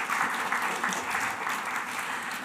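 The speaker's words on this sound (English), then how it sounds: "Yes, applause, applause," An audience at a poetry reading in response to antisemitism claps steadily, a dense, even wash of applause from a room full of people.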